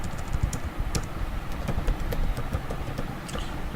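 Code being typed on a computer keyboard, a rapid, fairly close run of light key clicks with irregular rhythm and an occasional heavier keystroke, with no talking.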